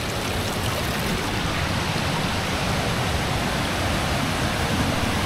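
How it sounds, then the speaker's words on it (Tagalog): Steady rushing of flowing water near Maranum Falls, a broadband wash that stays constant and full throughout, close by with no voices over it. "Mayroon na ring umaagos na tubig dito."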